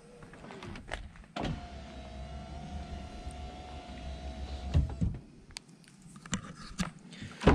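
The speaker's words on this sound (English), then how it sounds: "The key also controls the roof, which is quite a swish. So it all folds away neatly into that little area there." The electric folding roof of a Porsche 911 997 Turbo Cabriolet whirs steadily as it stows away, a motor hum for several seconds ending in clunks and clicks as it latches, close and fairly quiet.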